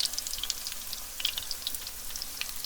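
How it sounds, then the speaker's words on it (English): Corn fritters fry in a pan with a little oil, giving a steady, soft crackling sizzle with scattered bright pops throughout, close by and fairly quiet, with no talking. "You put it into a pan with a little bit of oil, and then once it starts to look like it's getting brown"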